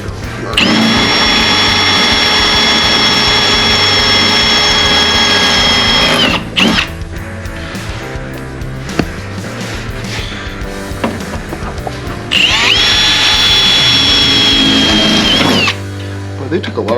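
Power drill boring holes into a Jeep LJ Rubicon frame for rock slider mounting, two long steady whining runs of several seconds each, loud and close, with a quieter gap of shop noise between them.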